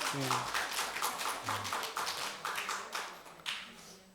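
Church congregation clapping during a sermon, sharp claps falling in an even, regular beat about twice a second, with a voice speaking at the start and continuing under the rhythm.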